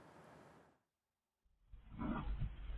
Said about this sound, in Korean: 호랑이의 거친 숨소리가 들리자 문을 닫고 안으로 들어오는 남성.